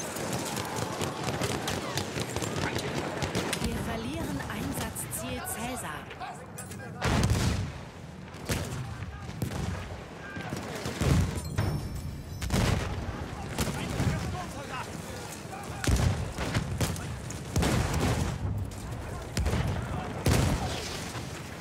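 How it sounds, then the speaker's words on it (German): Battlefield 1 battle gameplay with repeated heavy explosions and bursts of gunfire, loud booms every few seconds over constant rumbling combat noise, with players talking now and then. "Hier fliegen nur noch Sachen in die Luft."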